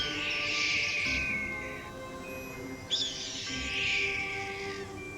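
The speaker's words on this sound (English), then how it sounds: "Red-tailed hawk." A red-tailed hawk call played from a bird-sound cassette in the Nancy Drew game Ghost Dogs of Moon Lake: two long, harsh, raspy screeches, loud and close, with a short dip between them.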